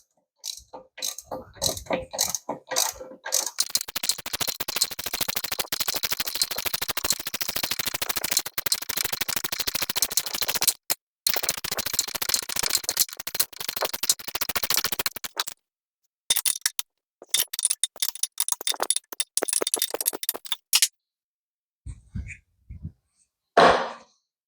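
Impact wrench with an impact socket rattling and hammering while mounting a Mercury Verado outboard, long close bursts of rapid clattering with short pauses, then brief intermittent bursts.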